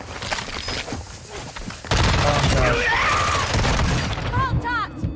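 Gunfire in the Call of Duty Warzone video game: loud bursts of shots and impacts crowd the mix, briefly layered with voices talking over the action.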